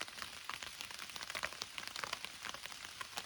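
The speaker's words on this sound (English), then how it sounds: "it started to rain pretty good" Steady, dense patter of rain falling on a tent at a wooded camping spot along a hiking trail, close and continuous with no voices.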